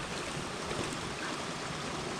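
A mountain creek in Utah's Pine Valley Mountains rushes steadily as a constant broadband wash of flowing water, fairly faint, with no voices.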